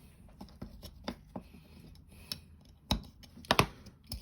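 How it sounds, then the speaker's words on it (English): Scalpel cutting around glued armour plates on a model car, a series of faint, close scratching and clicking cuts in an irregular rhythm, ending with a few sharper, louder scrapes. "I can use a scalpel and cut all the way around, give myself a neat finish"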